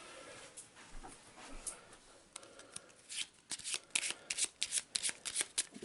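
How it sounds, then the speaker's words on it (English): A deck of cards for the board game Arkham Horror is shuffled up close, starting with soft slides and building into a rapid run of crisp, flapping riffles. "Give him a quick shuffle."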